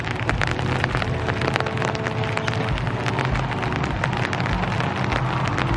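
Steady rain falling on surfaces at a wetland park, a dense continuous patter of drops with sharper individual taps scattered throughout, fairly close and uniform in level.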